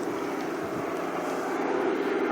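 A low-flying firefighting airplane drones steadily overhead during a fire, its engine a loud, continuous roar that holds for the whole stretch without a break.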